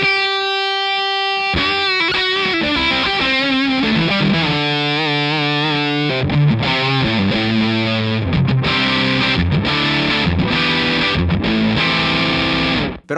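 An electric guitar runs through the PERF x JCraft DBD Drive Boost Delay pedal, all knobs at noon, with thick, saturated distortion. Sustained chords ring out and change in a strummed rhythm, loud and alone with no voices.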